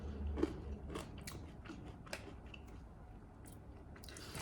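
Crunchy homemade vanilla wafer being bitten and chewed up close, a crisp bite followed by a run of quiet, rhythmic crunching chews, with no talking.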